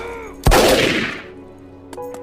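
A single loud gunshot from an action film bursts out sharply and decays over about a second, followed by a couple of fainter clicks or impacts.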